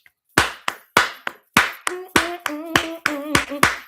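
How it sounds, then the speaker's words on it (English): Hands clap in Church of God in Christ gospel style, a steady rhythmic run of about a dozen crisp claps, close and alone, with a hummed voice joining under the later claps. "And then you clap like this."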